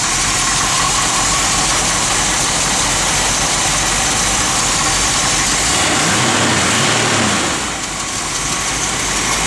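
A 1970 Plymouth Cuda with its stock 340 V8 idles steadily close by, a loud continuous rumble that dips slightly near the end.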